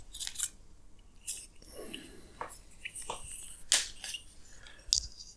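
Scissors snip heat shrink tubing for e-bike wiring, several short crisp clicks and cuts spaced irregularly, close and fairly quiet, with soft handling noises between.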